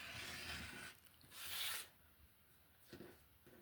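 Cutting fabric for a quilt block with a blade along a ruler, a couple of short quiet slicing swishes with faint handling noise between them.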